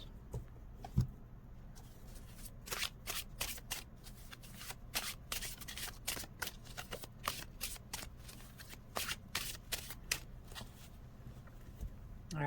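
A deck of oracle cards is shuffled by hand, producing a rapid series of crisp riffling and slapping bursts, close and fairly quiet, repeating throughout with brief gaps.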